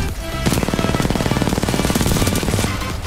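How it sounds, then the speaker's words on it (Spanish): Rapid automatic gunfire in Titanfall 2, a fast, continuous burst of shots that opens after a short pause and keeps up loud and close to the end, with no talk. "Vieron ustedes cuántos tiros le metí"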